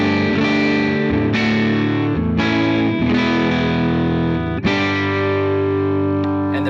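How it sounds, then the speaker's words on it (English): Electric guitar on the neck pickup played through a Fender Twin amp, a few sustained distorted chords struck and left ringing, loud and close with no talking. "let's hear the Fender Twin by itself on the neck pickup."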